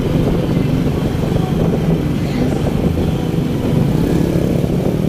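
A motorbike rides steadily along a narrow riverside road by the Châu Giang river in Phú Xuyên, its engine a continuous close droning rumble with road and wind noise throughout.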